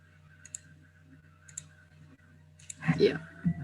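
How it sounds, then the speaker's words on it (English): A mouse clicks a few times at a steady pace while a CAD spline is drawn, sharp and close, with a voice starting up near the end. "So I will keep clicking until I finish my curve."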